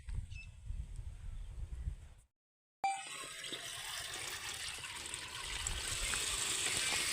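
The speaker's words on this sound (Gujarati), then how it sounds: "અત્યારે મિત્રો આપણે આટલું અડધું બેરલ પાણીનું ભર્યું છે" Water filling a barrel for dissolving DAP fertilizer for a cumin crop: there is low rumbling noise, then a brief silent cut, then a steady rushing pour that grows gradually louder as the barrel fills, with no voices.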